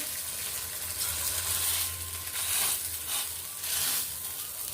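Vadas for a fasting recipe go one by one into a pan with only a couple of spoons of oil, sizzling steadily and fairly softly, with the hiss swelling in short bursts as each piece lands. No one speaks.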